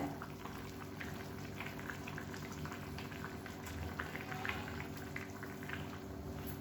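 Fish curry with seela fish simmers in a pot, giving a steady, soft bubbling and gurgling throughout with small popping bursts, moderately close and with no talking.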